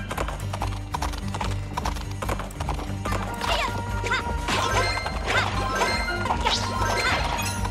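Horses gallop with rapid, dense clip-clop hoofbeats and occasional neighs and crashing impacts in the Princess Peach: Showtime! video game, loud and continuous over steady game music.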